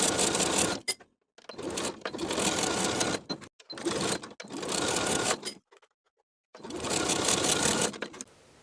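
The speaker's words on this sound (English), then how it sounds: "Sew the shoulders with a 3/8 inch seam allowance." A sewing machine stitches the shoulder seams of a DIY cardigan with a 3/8 inch seam allowance, running in four steady bursts separated by short pauses, close and alone.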